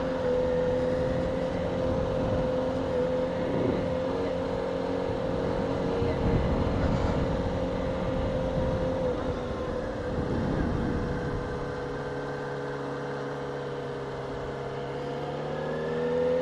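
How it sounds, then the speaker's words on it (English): A motorcycle engine braking on approach to a turn gives a steady, droning hum with shifting tones and a few brief surges, continuous throughout and fairly close, with no talking. "I just used the engine against itself, kind of, and I was able to slow down enough for the turn."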